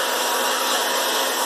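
A vacuum cleaner runs loud and close with a steady, continuous whining roar while cleaning a model railroad layout.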